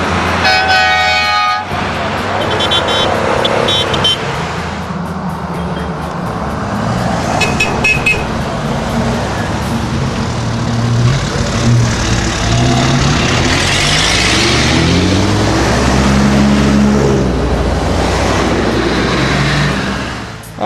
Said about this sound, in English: seeing a great long line of four-wheel drives with their lights on in a convoy